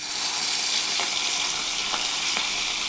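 Fish fat sizzles and spits in a pan of hot oil in a home kitchen, a loud, continuous hiss with a few soft stirring knocks and no talking.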